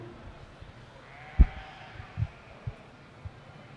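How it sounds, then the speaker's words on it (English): Suffolk yearling ewes in a livestock show ring let out a few faint, distant bleats over quiet arena background, one slightly louder call followed by scattered softer ones. "a strong class of Suffolk fitted yearling ewes"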